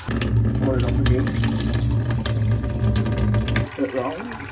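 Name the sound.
water poured over soybeans for soy milk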